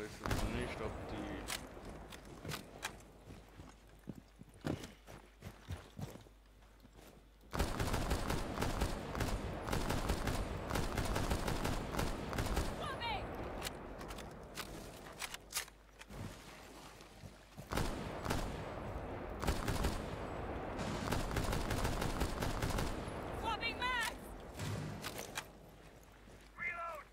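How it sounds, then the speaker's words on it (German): Rapid, dense gunfire from the PC game Rainbow Six Siege keeps up through nearly half a minute in sharp volleys and bursts at moderate level, with brief lulls and voices mixed in. "Ich schieß doch nur random."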